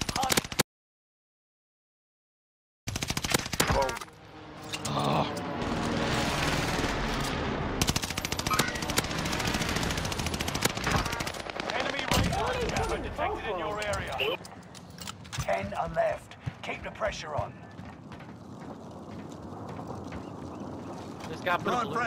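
Video game firefight in Rebirth with an automaton build: dense, loud machine-gun and rifle fire rattles almost continuously after a short silent gap, with voices talking over the shooting.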